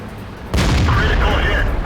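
A tank cannon fires in a tank combat video game, a single loud booming shot that bursts in abruptly and rumbles on through the rest of the moment.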